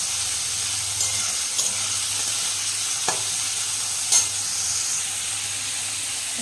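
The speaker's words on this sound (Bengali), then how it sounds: "এরপর আমি দিয়ে দিলাম তেলের মধ্যে সবজিগুলো" Carrot, capsicum and chopped green chilli fry in hot oil for a vegetarian chowmein, giving a steady broadband sizzle with a few sharp clicks and stirring knocks, close and continuous, no voices.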